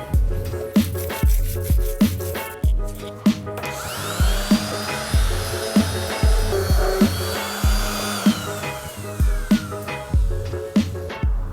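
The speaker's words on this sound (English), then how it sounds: "First up will be sanding these guys nice and smooth" A power sander whirs steadily on wooden boat parts, with repeated rhythmic knocks and scraping strokes throughout, a rising motor whine in the middle.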